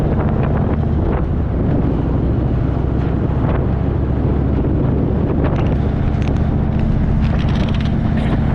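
Steady, loud wind roar buffeting the microphone of a rider on an Indian motorcycle touring Australia, a continuous broadband rush that never lets up, with no voices.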